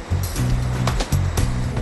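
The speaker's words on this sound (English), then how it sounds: "These powerful blowers force air into the holds, creating so much pressure that all the water and fish shoot through this opening at the back of the hold." Compressed-air blowers force water and fish out of a fishing boat's hold, giving a loud rushing, gushing surge of water over a low machine drone, with a few splashy bursts, close and alone.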